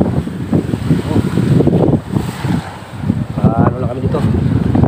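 Strong wind and rough, heavy sea waves buffet a fishing boat off Occidental Mindoro, a loud continuous roar with surging swells and close microphone wind noise.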